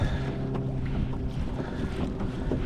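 Wind roars steadily against a boat trolling for fish on Bellingham Bay, a constant broadband rush of microphone wind noise with water and engine rumble underneath and no talking.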